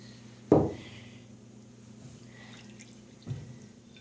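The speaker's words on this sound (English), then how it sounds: "now you need to pour that in the bowl" Water splashes into a bowl during a home science experiment: one sharp pour-and-splash near the start, then quiet, then a second softer splash later, close by with no talking.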